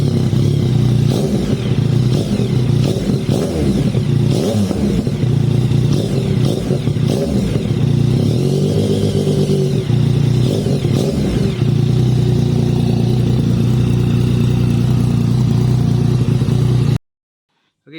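A Yamaha MT09 motorcycle fitted with an aftermarket Akrapovic exhaust idles and revs loudly and up close, its engine rising and falling through several throttle blips before cutting off abruptly.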